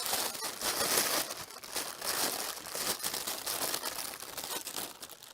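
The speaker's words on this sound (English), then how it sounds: "Is that crumpled enough, Rodeo?" A sheet of hot stamping foil is crumpled by hand for a textured two-tone effect, giving a steady crinkling that runs the whole time, close and fairly loud, with no talking.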